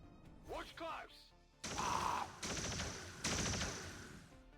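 Rapid revolver gunfire from the Fan Fire ability in XCOM 2, Long War of the Chosen mod, sounds as three loud, crackling bursts in quick succession after a brief spoken line at the start.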